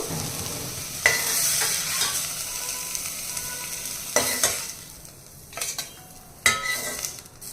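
Fenugreek leaves fry in oil in a pan, a soft continuous sizzle broken by several sharp scrapes and knocks of a spoon stirring against the metal, close and clear.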